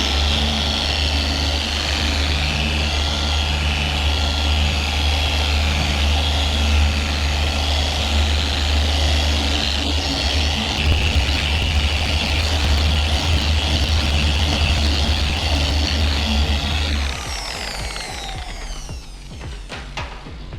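Dual action polisher with a spinning pad running steadily at speed 3 while polishing, a loud constant motor drone that holds for most of the stretch before dropping off near the end.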